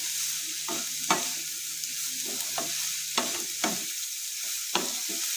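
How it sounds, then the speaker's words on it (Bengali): Chicken momo filling stirred in a frying pan over a steady sizzle, with several sharp spoon scrapes and knocks spaced irregularly, close and clear with no talking. "ভালো করে নাড়িয়ে নিতে হবে।"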